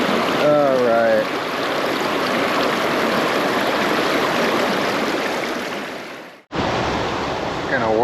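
Fast-flowing river water at White River Falls roars in a loud, steady wash close to the microphone. A whistled tone rises briefly near the start, and the sound cuts out for a moment before the rushing resumes.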